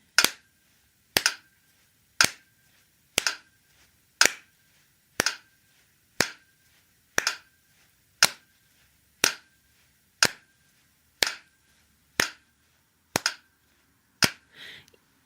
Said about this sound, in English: Just clap on the beat.